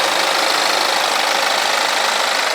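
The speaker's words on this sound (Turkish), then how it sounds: "Ve bu da 520'nin motoru. Turbolu." A turbocharged four-cylinder engine of a 2016 BMW 520 idles steadily, a dense, even mechanical hum heard up close and alone for the whole stretch.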